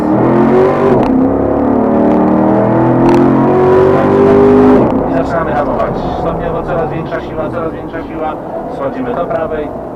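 Corvette C7 engine pulling hard under full throttle on a race track, a loud rising roar through the first half that then shifts and continues more unevenly, with someone talking over it throughout.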